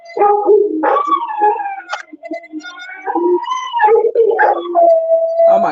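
Several dogs howl loudly and close by, long rising and falling wails overlapping one another with a few whimpering yelps, heard on their own with no talk.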